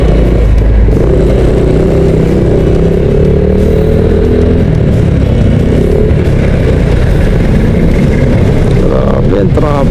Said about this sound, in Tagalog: Grabe ang traffic dito.